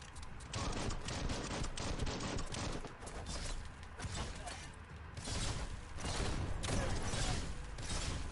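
Shotgun fire in the video game Biomutant, heard as repeated loud blasts amid dense, continuous combat noise, with a voice talking over the fighting.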